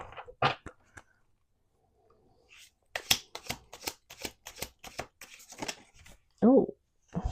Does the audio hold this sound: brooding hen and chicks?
no